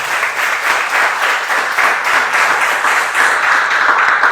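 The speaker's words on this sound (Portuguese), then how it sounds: "Aplauda o nome do Senhor." A church congregation applauds together, a steady dense wash of clapping from many hands that carries on for several seconds, fairly loud and close, with no speech over it.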